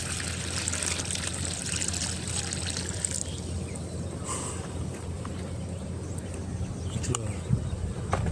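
Water poured from a container onto a newly planted fig tree, a steady close splashing trickle running throughout.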